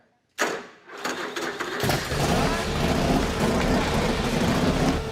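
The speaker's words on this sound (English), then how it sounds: "we're getting ready to fire the Alliance bike up" An Alliance chopper motorcycle starts after a brief cranking burst, then settles into a loud, close, thick rumbling idle that holds steady with slight revs, and no voices are heard over it.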